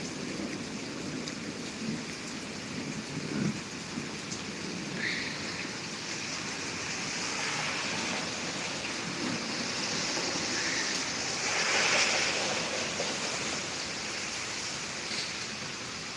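Steady rain falling through a thunderstorm in Pittsburg, Kansas, a continuous broadband hiss with scattered nearby drops, swelling slightly around the middle, with no voices.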